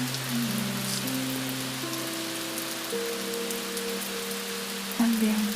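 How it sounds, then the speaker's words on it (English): Soft, steady rain patters as a gentle wash beneath sustained, slowly shifting tones of calm night music, quiet and even throughout. "steady rain was the main sound"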